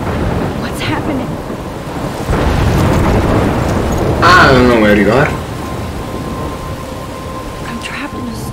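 A thunderstorm rolls through the video game Life Is Strange Remastered: loud rain hiss and a deep thunder rumble swell midway, while a voice speaks over the storm.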